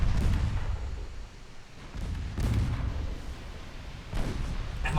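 Battleship gunfire with an ammunition detonation in the naval video game Ultimate Admiral Dreadnoughts: heavy, rumbling booms that roll on continuously, with fresh blasts near the start, around two and a half seconds, and again past four seconds.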